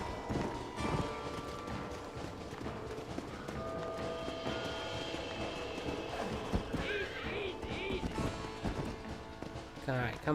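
A horse in Red Dead Redemption clip-clops at a steady gallop, with a whinny rising near the end, while someone talks over the hoofbeats and game sounds.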